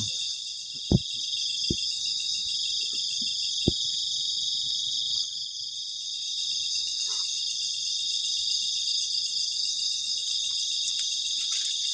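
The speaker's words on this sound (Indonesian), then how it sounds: "ketika malam suara jangkrik itu kenceng banget. Krik krik krik" Crickets chirp loud and unbroken at night around a campsite, a dense high-pitched trill filling the background, with a few sharp knocks or taps near the start.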